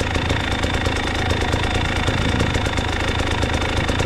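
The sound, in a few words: motorcycle engine running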